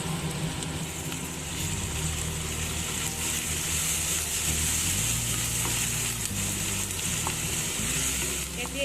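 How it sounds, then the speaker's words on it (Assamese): Onions and ginger frying in a pan for Assamese fish curry, a dense continuous sizzle with faint stirring over a low background hum, steady throughout with no talking. "যিখিনি পিঁয়াজ দি দিলোঁ, ফ্ৰাইও হৈ গ'ল।"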